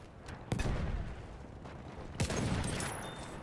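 Two sniper rifle shots ring out from the distance in a video game, each a sharp crack with a trailing echo, about two seconds apart over a constant noisy background.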